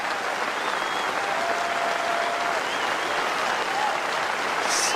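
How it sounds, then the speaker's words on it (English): Large cricket crowd at a New Zealand versus India Test match giving a standing ovation, a dense, continuous roar of applause filling the stadium at steady high volume throughout. "What a wonderful ovation."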